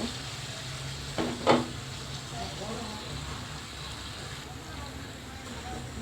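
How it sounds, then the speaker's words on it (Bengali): Eggplant and baim fish are dropped into sizzling masala in a pan, giving a short burst of crackling early on. A soft, steady frying hiss continues at low volume through the rest. "দুই মিনিট কষানো হয়ে গেলে বেগুন আর হচ্ছে মাছটা একসাথে আমি দিয়ে দিব"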